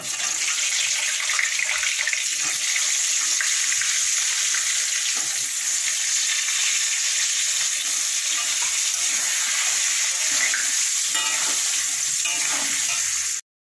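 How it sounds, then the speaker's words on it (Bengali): Potato pieces with turmeric frying in a pan: a loud, continuous, crackling sizzle that holds steady from start to finish with faint stirring underneath, then cuts off abruptly. "এবার আমি আলুটা ভেজে নেব।"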